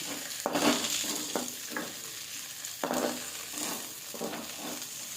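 Gongura flower petals frying in hot oil in a pan, a steady sizzle with intermittent scrapes and clinks of a spoon stirring, close and even in level.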